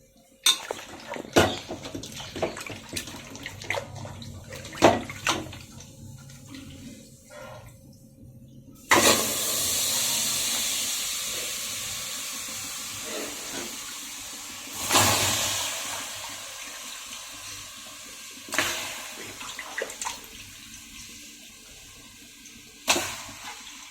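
Pots and utensils clink and clatter, then water gushes and pours into a cooking pot in a few separate bursts, with more knocks between.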